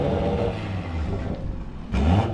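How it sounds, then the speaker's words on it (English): An 800 hp Toyota Supra engine drones and revs through its mufflers, a loud steady rumble that surges sharply toward the end of the short burst. "I feel like I can hear the mufflers trying to quiet it down"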